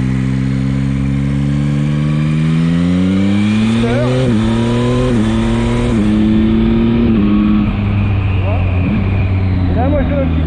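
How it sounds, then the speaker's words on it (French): A Yamaha MT-09 motorcycle idles loudly up close, its engine rising in quick throttle blips and falling back. Someone talks over the engine throughout. "Et là, moi je donne un petit coup de gaz."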